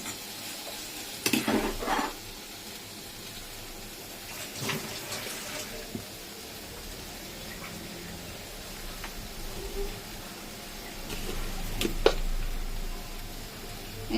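Tomato and cumin frying in a pan while being stirred, with a soft, continuous sizzle and intermittent scraping stirs, close and moderately quiet, with no talking.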